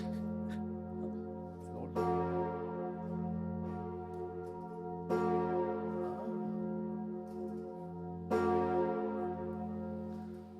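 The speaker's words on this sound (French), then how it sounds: "C'est le bourdon Emmanuel datant de 1683, qui est la plus ancienne cloche de Notre-Dame de Paris." The Emmanuel bourdon of Notre-Dame de Paris, a great bell cast in 1683, tolls deep and resonant, with three heavy strikes about three seconds apart, each ringing into a long humming decay, heard alone.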